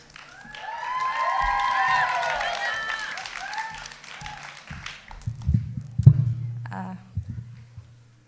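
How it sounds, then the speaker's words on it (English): An audience applauds and cheers for a spoken word poet at a school poetry slam, with loud clapping rising quickly and then fading over several seconds before a low voice speaks briefly near the end. "Applaud the poet, not the score"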